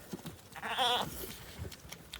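A newborn lamb lets out a single quavering bleat amid a noisy rural barn setting with faint rustling and other soft farm sounds.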